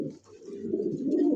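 A single Lahore pigeon coos in soft, low, repeated rolling calls, close to the microphone and alone without talk.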